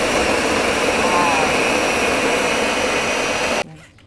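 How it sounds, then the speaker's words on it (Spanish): A blender whirring loudly as it purees pineapple, carrot, cooked rice and banana for juice, a dense steady roar that cuts off abruptly near the end, leaving a faint low hum. "Ahora lo ponemos a licuar."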